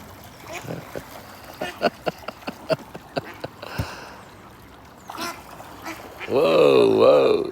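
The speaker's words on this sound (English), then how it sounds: "Oh, the ducks are brave." Ducks quack in a loud, close burst near the end, preceded by a series of sharp knocks and splashes, with a voice speaking in between.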